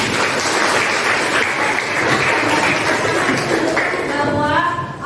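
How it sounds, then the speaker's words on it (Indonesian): Steady applause from a classroom of students fills the room at a constant level, dense and close, with a faint voice surfacing near the end as the clapping fades. "Beri tepuk tangan."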